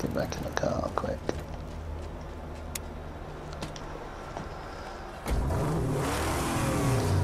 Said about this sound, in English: I hear car engines.